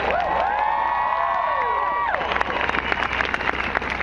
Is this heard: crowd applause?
yes